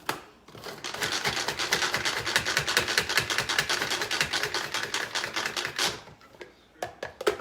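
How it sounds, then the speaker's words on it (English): Food processor chopping a cut, seeded poblano pepper: a dense run of rapid, loud chopping pulses for several seconds that stops abruptly, followed by a few separate short knocks, with no talk. "I'm going to process the pepper"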